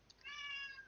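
A cat gives a single short, faint meow in the background.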